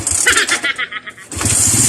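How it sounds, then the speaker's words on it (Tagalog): A Suzuki Raider J 110 motorcycle with a fault that makes it stall when the handlebar turns right, its engine cranking with rapid pulsing bursts, a short lull, then catching and running loudly nearby. "siyempre pandarin natin ang kanyang motor"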